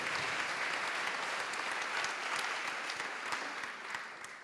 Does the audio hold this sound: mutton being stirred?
no